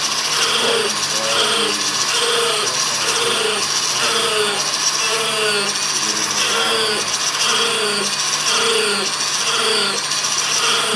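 A cylindrical rotary burr with hard wire hooks scrapes and rasps over a wooden turning, giving a continuous buzzing grind with a pulsing rhythm as the tool moves across the wood.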